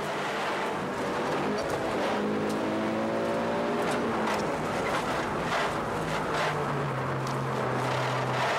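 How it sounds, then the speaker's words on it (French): A 1995 Eagle Talon rally car races past on a rally stage at Pointe-au-Pic, Charlevoix, its engine loud and rising in pitch before dropping away as it passes, with a steady roar throughout. "la Eagle Talon 1995 de Barbe, alors que s'amène le duo Latreille et Latreille"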